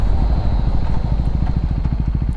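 Husqvarna Svartpilen 401 motorcycle engine running loud and close, a steady rapid pulsing chug as the rider upshifts by foot without a quickshifter, no voices.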